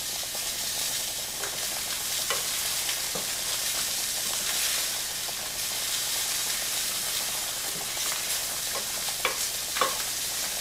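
Onions and peppers cooking in a pan, a continuous hissing sizzle with occasional scraping stirs and light clicks of a utensil, close and moderately loud, no speech.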